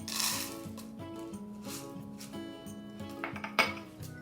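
Sprinkles rattle and tick as they are poured into an airtight container, a steady close scattering patter with a few sharper clinks near the end and no talk.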